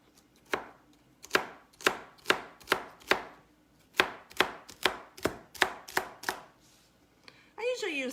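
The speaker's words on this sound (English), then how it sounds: "And I'm just going to give it a mince." Knife mincing shrimp-recipe aromatics on a cutting board: a run of about fourteen sharp, evenly spaced chops, close and crisp, pausing briefly midway, with a faint sound at the end and no talking.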